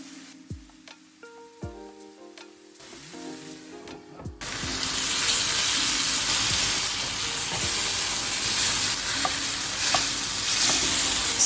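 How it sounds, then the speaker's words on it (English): Bread buns spread with garlic butter and toasted in a pan. A few light knocks and clinks lead into a loud, steady sizzle that runs without a break to the end. "So I'm just going to toast the bread until it's golden brown."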